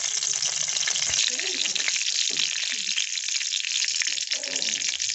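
Mustard oil sizzles with a tempering for paneer gravy, giving a bright continuous crackling hiss with faint stirring sounds underneath.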